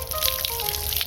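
Water running steadily into a tank, a continuous close rushing and splashing flow with a faint hum underneath, no voices.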